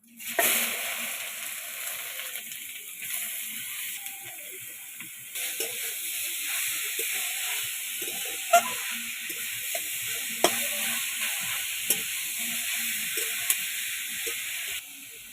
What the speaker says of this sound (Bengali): আমি এই তেলে বিট গাজরগুলো ভেজে নেব।